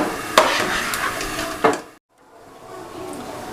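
Fried onions sizzle steadily in a pan on a stove with a couple of sharp clinks, then the sizzle cuts out abruptly as the pan is lifted off the heat, leaving a faint quieter hiss.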